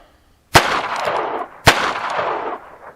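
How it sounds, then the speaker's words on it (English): A Barkeep .22 Magnum revolver fires CCI snake shotshells outdoors at a target: two sharp, loud shots about a second apart, each followed by a decaying echo. "This time I'm going to finish that bottom target with the Barkeep 22 Magnum."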